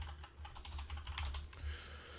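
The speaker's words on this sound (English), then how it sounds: "So if we type in meta cooler." Fast typing on a computer keyboard, a quick run of soft clicking keystrokes heard close up but faint, over a low hum and with no voices.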